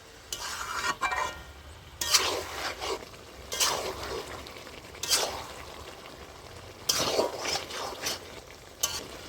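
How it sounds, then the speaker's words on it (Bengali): Chicken sautés in hot oil in a pan with a low sizzle, while a spatula scrapes and stirs in bursts every second or two. Close and fairly quiet, with no voices. "মাংসটা দিয়ে ভালো করে কষে নিতে হবে"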